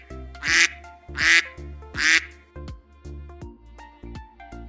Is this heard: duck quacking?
yes